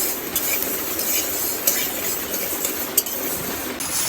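Lentils for a Gobindobhog rice khichuri dry-frying in a pan, a steady close scraping and stirring with faint sizzle and a couple of sharp utensil clinks against the metal.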